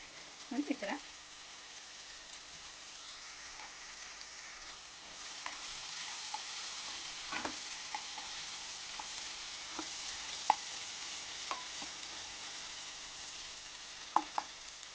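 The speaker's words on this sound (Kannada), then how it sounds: "ಇದು ಚೆನ್ನಾಗಿ ಫ್ರೈ ಆಗ್ತಾ ಇದೆ ನೋಡಿ ಇವಾಗ ಬದನೆಕಾಯಿ ಹಾಕ್ಕೊಳ್ಳೋಣ" Brinjal frying in a pan for vangi bath gives a steady broadband sizzle throughout, broken by a few sharp clinks and stirring scrapes, with no talk over it.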